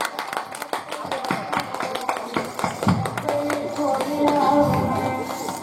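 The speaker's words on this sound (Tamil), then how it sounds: "எல்லாம் கை தட்டுங்க, சிறப்பாக கை தட்டுங்க." Audience clapping at a Tamil folk drama (nadagam) performance, a dense wash of hand claps close by with scattered sharper taps, mixed with crowd noise and a sustained musical tone toward the end.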